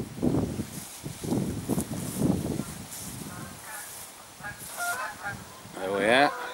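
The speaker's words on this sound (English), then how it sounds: "there are a lot of geese going over" Several geese honk overhead, their calls rising toward the end over a rustling, breezy outdoor background.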